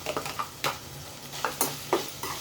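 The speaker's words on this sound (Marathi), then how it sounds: "चांगलं एक दहा वीस सेकंद ह्या कांद्यामध्ये मिक्स करून घेऊया" Onions stirred in a frying pan for liver masala after chili is added, giving a run of scraping spatula strokes over a quiet sizzle, close and moderately loud, with no voices.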